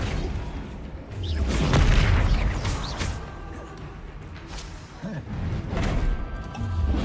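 A Flipendo spell strikes during Hogwarts Legacy combat, bringing deep booms, crashing impacts and swooshes that swell and fade in a dense, loud game battle mix.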